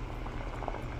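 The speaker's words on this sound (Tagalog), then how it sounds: "Ayan, kumukulo na siya." Coconut milk stew with pompano and jackfruit bubbles and simmers steadily in a pot, a soft continuous burble with small pops close by.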